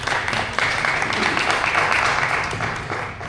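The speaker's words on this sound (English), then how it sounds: "So one more time, a round of applause for them" An audience at a series of closing talks gives a brief round of applause for the speakers, a full, even burst of clapping that tapers slightly at the end.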